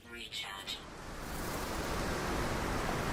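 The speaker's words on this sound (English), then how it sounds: "Let's recharge my pulse engine." A starship's pulse engine recharging in No Man's Sky: a dense, rising wash of hissing noise that swells after a brief, uneven start and then holds steady and loud to the end.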